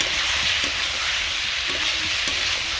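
Home-grown potatoes and soybeans fry with spices in a pan, producing a loud, dense, continuous sizzle with faint scraping of stirring, close and without talk.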